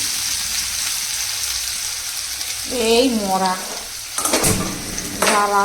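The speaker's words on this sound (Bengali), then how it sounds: "আলু আর কুমড়ো ভাজা বসিয়ে দিলাম" Potato and pumpkin pieces fry in a pan over a black cumin tempering, making a close, steady hissing sizzle with bursts of stirring, while a voice speaks briefly partway through.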